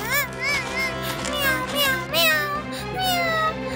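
A girl character in a cartoon imitates a cat, her voice making a string of drawn-out, wavering meows close up, one after another over a busy background.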